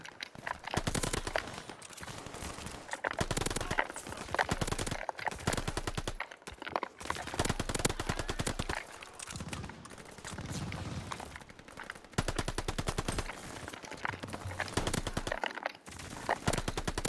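Rapid automatic gunfire in Call of Duty while shooting bots, dense continuous bursts with brief pauses, loud and close throughout.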